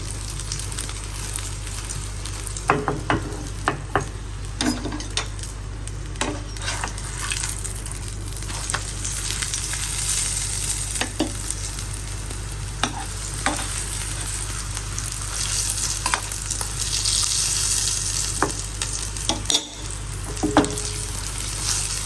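Aloo paratha frying in plenty of hot oil in a pan gives a steady, close sizzle, broken by scattered sharp crackles and light taps of a utensil, with no talking.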